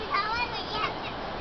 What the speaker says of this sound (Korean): 우리 아이들의 소리가 들리시지요?